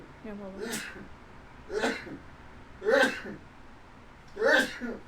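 A person sneezes about four times in a row, each burst sharp and fairly close, with a brief word spoken at the start.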